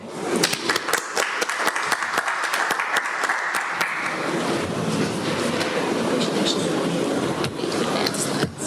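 A conference audience at a mining technology session in Kazakhstan claps for an incoming speaker, scattered claps building into a dense, steady round of applause that carries on for several seconds.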